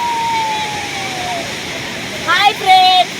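Kuntala waterfall sends up a steady wash of rushing water, with people's voices and brief whistling sounds rising over it near the end.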